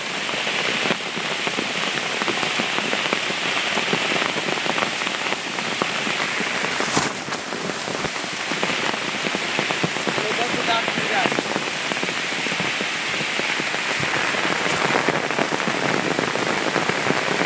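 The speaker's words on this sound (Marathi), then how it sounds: "पाऊस काय ऐकही नाही ना पावसानं सगळं वाटवायला लावून ठेवला आहे" Heavy rain pours steadily outdoors in the Konkan countryside, a dense, loud, continuous hiss of drops striking surfaces with no break across the whole stretch.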